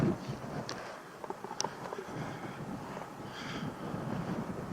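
Strong wind buffets a microphone outdoors under a sky watched for clear weather, a steady low roaring rush with scattered gusty bumps and faint clicks, no talk.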